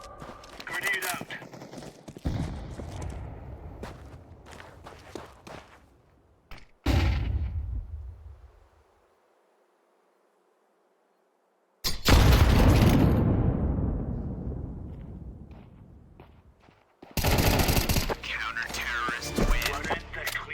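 A grenade explosion and gunfire go off in the video game Counter-Strike as long, loud crackling bursts, separated by a dead-silent gap and a booming blast that slowly decays. Voices are heard among the noise.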